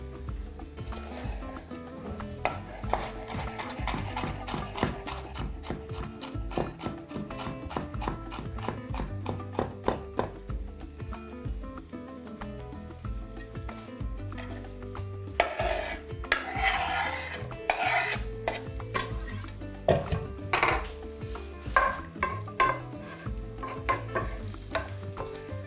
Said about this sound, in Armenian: դա չիլի պղպեղն է, կօգտագործեմ սրա կեսը, կտրատում ենք մանր